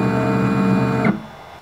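A 3D printer making an odd mechanical noise: a loud, steady whirring buzz with a strong hum that runs for about a second, then cuts off abruptly into near silence.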